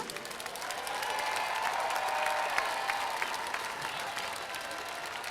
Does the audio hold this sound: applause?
yes